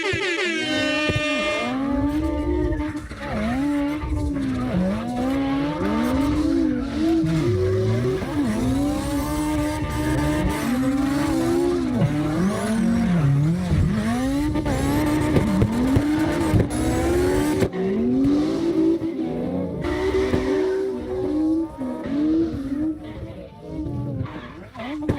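Several cars drifting in a tandem line in the video game CarX Drift Racing Online, with engines revving and wailing up and down in repeated swoops and some tire squeal, steady and loud throughout under a speaking voice.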